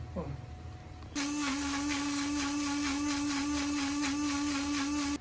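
Matcha and boiled water get whisked in a shaker, a steady buzzing motor drone that kicks in abruptly after a second of quiet, holds evenly for about four seconds, then cuts off.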